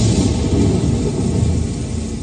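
A thunder and storm sound effect plays in a children's Sunday School skit at St. Thomas Jacobite Church, Portsmouth: a dense, loud, steady rushing roar with low rumble and no pauses.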